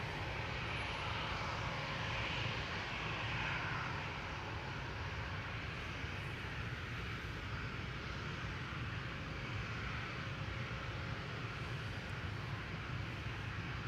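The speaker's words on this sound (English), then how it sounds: "A350 from Finnair is lined up on runway 24." Steady, faint, low roar of a Finnair Airbus A350's engines idling on runway 24 at Amsterdam Schiphol, a broad even rumble heard from a distance with no talk.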